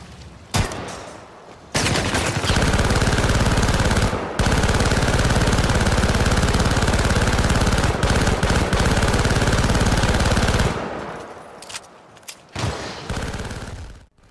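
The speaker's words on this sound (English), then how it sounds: "The guns mostly mimic contemporary fare, but with a futuristic twist. The kick and power behind each rifle is satisfying." Rifle gunfire from Syndicate multiplayer on PS3, futuristic weapons modeled on contemporary guns, rattling in a loud, dense sustained burst after a short opening shot, with brief scattered shots trailing at the end.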